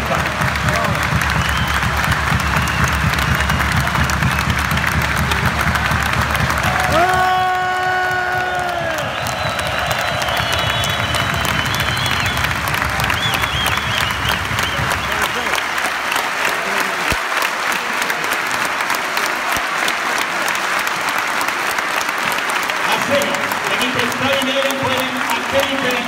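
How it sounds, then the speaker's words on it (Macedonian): Arena crowd at a veterans handball match between Pelister and Macedonia applauding in a long, loud, sustained wave, with cheers and an announcer's voice over it, easing toward the end. "Аплауз за Златко Димитровски и Пепи Манасков"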